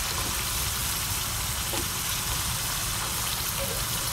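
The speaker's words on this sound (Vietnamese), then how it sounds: "Chiên bằng cái nồi gang này nó sẽ rất là ngon và giòn khoai luôn nè" Potato pieces frying in oil in a cast iron pot, a steady close sizzle and crackle that runs without pause, with no talking.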